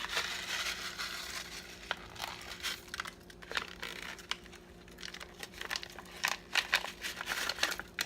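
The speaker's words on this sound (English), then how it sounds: "I'm going to put the soup package in with the hamburger" A soup mix packet crinkles and rustles up close as it is torn and emptied over hamburger meat, with crisp scattered crackles and light taps over a faint background hum.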